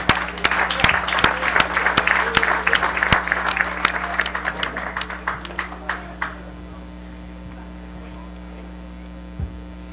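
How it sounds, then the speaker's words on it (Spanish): A crowd applauds at an indigenous festival in Cabagra, with sharp, scattered claps that start dense and thin out to a few isolated ones under a steady electrical hum. "Recibimos un fuerte aplauso."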